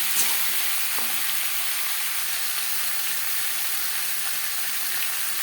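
Potatoes with turmeric and salt fry in hot oil for a fish curry, a steady broadband sizzle with faint scraping as they are stirred, close and continuous throughout.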